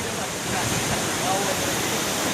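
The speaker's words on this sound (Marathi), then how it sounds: "And here you can see the Vajrai waterfall." Steady broadband roar of water pouring down at the base of the Vajrai waterfall in India, the country's tallest, a continuous close rushing wash with no break across the short stretch.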